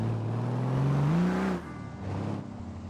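Simulated car engine in the BeamNG driving game revving hard with a raised rev limit, pitch climbing steadily, then dropping off sharply and surging again briefly, loud and alone without talk.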